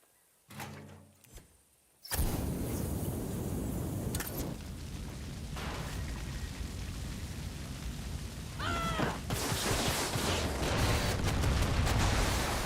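Explosions and gunfire in the video game Far Cry 6: after a few quieter clanks, a sudden loud blast opens a dense, sustained roar of detonations and shots that grows heavier toward the end, with no talking.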